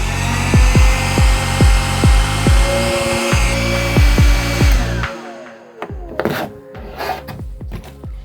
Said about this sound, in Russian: Осталось только включить фен и подождать нагрева внутри деталей.